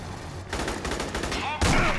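Rapid gunfire in the video game Aliens: Colonial Marines, a dense crackling burst of shots close up, swelling louder near the end.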